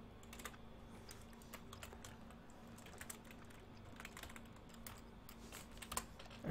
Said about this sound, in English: you can type it in real quick